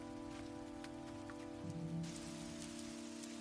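Steady rain falls outdoors on a stormy night, a constant soft wash of drops with a brief low rumble partway through, with no one talking.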